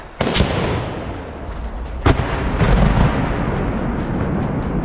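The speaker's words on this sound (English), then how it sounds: "more grenades and rifle fire clear the enemy dugouts" Grenade explosions and rifle fire clear enemy dugouts during a trench assault in Ukraine: two sharp bangs stand out over a constant loud, rumbling wash of distant combat noise, with no voices.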